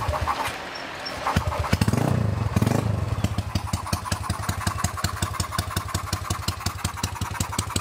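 A Honda PCX scooter engine fitted with nitrous injection cranks, revs up briefly, then settles into a steady close rapid idle with an even pulsing beat.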